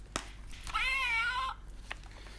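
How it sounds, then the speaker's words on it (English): A toy box meows as it is opened: a single drawn-out meow, fairly loud and close, lasting under a second, with a couple of soft clicks before and after. "So the box actually meows when you open it."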